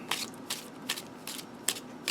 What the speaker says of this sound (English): let's just give it some good shuffles here.